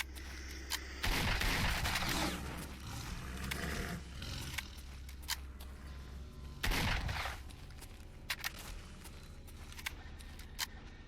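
Loud shotgun blasts from an old double-barrel boom twice in the Stalker Narodnaya Solyanka overhaul mod, each followed by a long rumbling tail, with smaller sharp cracks scattered between them.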